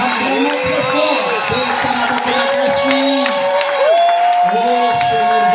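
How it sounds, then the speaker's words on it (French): A church congregation at a Sunday wedding service cheers and shouts loudly, with a sustained crowd roar and voices rising and falling throughout. "Acclamons très fort."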